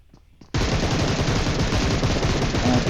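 Rapid automatic gunfire in a battle royale video game bursts in suddenly after a quiet moment of faint footsteps, then continues as a loud, dense, unbroken stream of shots.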